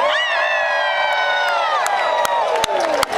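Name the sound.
crowd screaming and cheering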